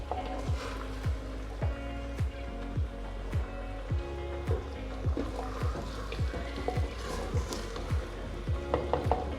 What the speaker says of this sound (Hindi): अब हम इसमें गोश्त डालकर वो भी फ्राई करते हैं।